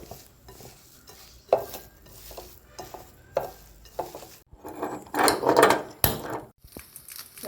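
Banana flower is stirred with turmeric and salt in a pan, producing uneven bursts of scraping and utensil clatter against the pan, with a louder rough stretch near the end.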